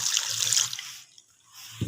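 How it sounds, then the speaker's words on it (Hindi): Water splashes and trickles into a bowl of mixed maize and wheat flour for roti dough, a short close pour that stops abruptly, followed by a faint knock. "अब मैं इसमें पानी डालती हूँ"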